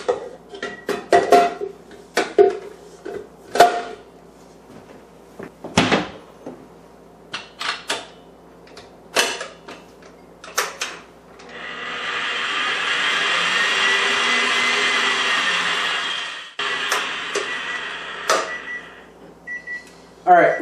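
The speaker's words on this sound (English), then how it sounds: "we're going to beat this just to break the eggs and get these mixed together" A hand mixer beats eggs for a low-carb pecan pie cheesecake, giving a steady whirring drone for about five seconds. Before it starts there is talk and kitchen clatter, and a few clinks follow.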